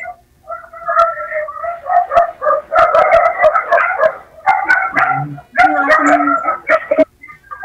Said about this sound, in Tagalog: higop na higop yung tawol ng aso eh